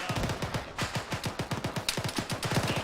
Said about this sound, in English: It sounded like that was possibly vehicle cannon.